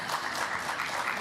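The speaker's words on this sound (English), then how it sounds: "Give yourselves a round of applause." An audience at a trade and investment forum in Grenada breaks into applause, a dense, steady wash of clapping heard close throughout.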